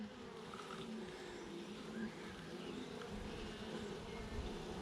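Honey bees hum steadily around an open hive during a frame inspection, a dense, continuous drone at moderate level with no speech.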